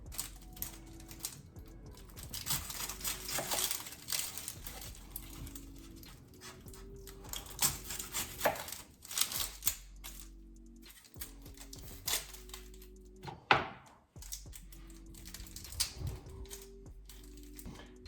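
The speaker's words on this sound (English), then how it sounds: "So to get started, we're gonna dice up our onion here." A knife chopping an onion on a cutting board, with quick irregular bursts of close, crisp taps and knocks, pausing briefly now and then.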